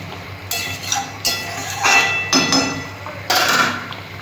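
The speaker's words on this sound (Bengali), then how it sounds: "এবার ঢাকাটা খুলে দেখি বন্ধুরা" Metal lid handled on a cooking pan of spicy singhi fish curry with eggplant: several sharp, ringing metallic clanks and clinks in an uneven sequence, close and fairly loud, with no talking.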